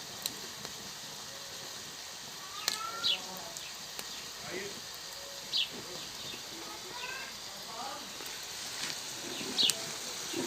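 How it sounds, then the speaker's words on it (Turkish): Small birds chirp in short, sharp bursts across a quiet home garden in Diğanda, scattered calls near and far over soft background hiss. "şöyle bahçemizin de kuşların sesleri eşliğinde bir görüntüsünü alalım"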